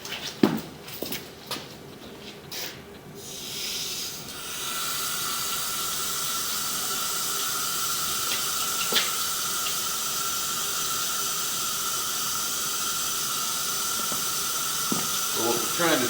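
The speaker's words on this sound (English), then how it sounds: "We're going to try to run some water and stuff also." Water runs steadily from a tap into a drain to flush the trap at a house, a continuous rushing hiss after a few clanks, with brief talk near the start.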